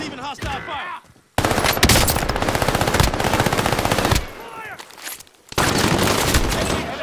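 Rapid automatic gunfire in Call of Duty Warzone, loud and close, in long sustained bursts broken by short pauses, with brief chatter from game voices between the volleys.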